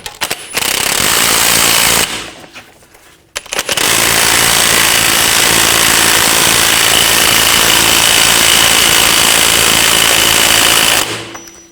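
Impact wrench tightening the axle nut on the rear hub of a 2000-2006 BMW X5 during a hub bearing replacement; two loud, sustained hammering bursts, the first brief, then a pause, then a long close run of about eight seconds.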